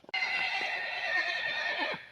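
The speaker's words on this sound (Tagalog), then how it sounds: "alaga nga po pala nila mama yung maingay na kabayo" A farm horse lets out a single loud, drawn-out whinny close by, a bright wavering neigh that rises sharply, holds and then trails off into quiet, heard alone without talk.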